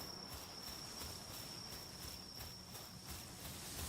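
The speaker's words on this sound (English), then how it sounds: "The crickets you hear in the game" Steady chorus of crickets chirping in the video game Palworld, a continuous high trill pulsing evenly throughout, moderately faint and alone with no talking.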